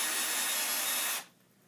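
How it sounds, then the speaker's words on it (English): A power drill whirs steadily as it bores into wood, loud and close, running continuously for about a second before cutting off abruptly into quiet. "you can drill it all the way in, pushing."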